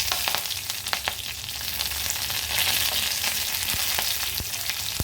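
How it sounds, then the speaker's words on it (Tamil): Dried red chilli and curry leaves sizzle and crackle in hot oil with mustard seeds and urad dal for a horse gram dish, a steady close frying hiss dotted with sharp pops, no voices. "நல்லா பொரியட்டும் ரெண்டும் காய்ந்த மிளகாய் ஒன்று சேர்த்துக்கிறேன் கருவேப்பிலை"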